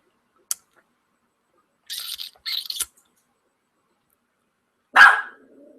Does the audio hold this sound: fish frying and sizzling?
no